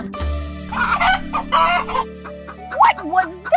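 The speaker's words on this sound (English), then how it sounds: "It's just one of the chickens." A chicken on a farm clucking in several loud, close, jerky bursts, with a steady background tone beneath it.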